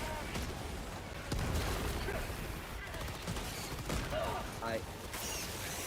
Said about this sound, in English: Throwing grenade! Grenade.